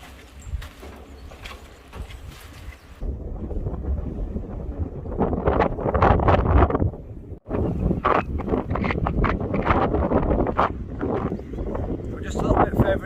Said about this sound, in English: You might not hear me because of the wind